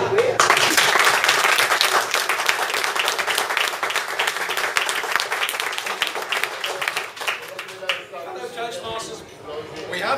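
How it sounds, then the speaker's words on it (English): A dinner audience gives a big round of applause at a Toastmasters charter event, a dense, loud wash of clapping that gradually thins toward the end, with voices mixed in underneath. "So now you should give everybody a big round of applause just for that."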